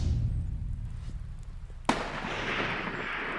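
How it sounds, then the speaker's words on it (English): A single sharp rifle shot at a mule deer during an outdoor hunt, a loud crack at about two seconds with a rumbling echo trailing off, over steady wind and field noise. "he pulls the trigger"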